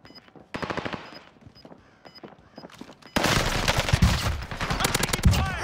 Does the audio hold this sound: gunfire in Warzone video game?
yes